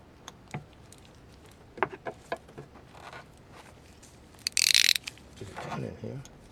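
A ratchet tightening a camshaft sensor bolt clicks in short bursts, with scattered metallic taps and handling noises, then a brief loud rasping stretch near the end.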